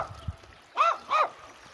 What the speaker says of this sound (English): That dog is very angry with me